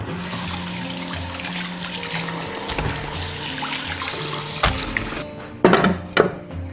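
Tap water runs steadily over boiled beef brisket being rinsed in a kitchen, with a few louder splashes and clatters near the end.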